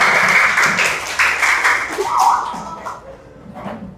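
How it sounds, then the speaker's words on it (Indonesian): Classroom of primary-school pupils clapping for a student group, a short ragged burst of applause that fades out with some murmuring underneath. "Tepuk tangan dong buat kelompok 1."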